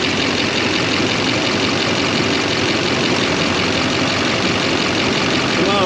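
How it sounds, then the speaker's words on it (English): A Duramax diesel truck engine fitted with dual alternators idles steadily and loudly at close range, a dense continuous rumble with no gaps throughout. "Restarting the engine."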